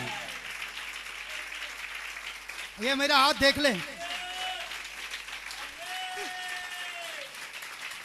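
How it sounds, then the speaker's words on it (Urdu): A church congregation claps steadily through most of a sermon tape service, with a voice briefly speaking over the applause partway through. "تالیاں"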